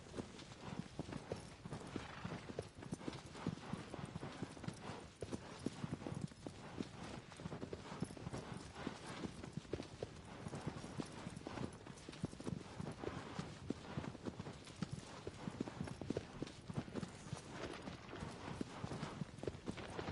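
Steady clip-clop of horse hooves in a video game, continuous and prominent throughout with a dense even rhythm.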